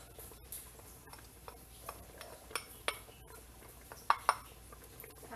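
A pot of kare-kare thickened with ground rice and peanuts being stirred, soft scattered clinks and taps of a spoon against the pot, quiet and irregular, with a couple of sharper knocks toward the end.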